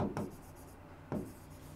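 Two short scratchy strokes of handwriting, as a teacher writes a physics equation during a class lesson, close and quiet with a pause between them.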